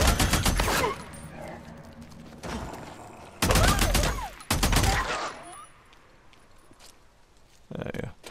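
Gunfire aimed at infected wolves in the video game Days Gone, bursts of rapid automatic shots in several loud volleys separated by quieter gaps, with a single sharp shot near the end.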